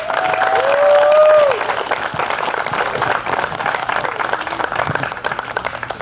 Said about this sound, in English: So a round of applause, if we could please, to all of the supporters